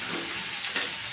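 Fish sizzles in hot oil in a pan as a steady close hiss with a brief stirring scrape, and no one talks.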